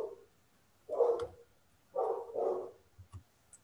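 Dogs bark outside, heard faintly from a distance, a few muffled barks in two short bursts with quiet gaps between them and no one speaking.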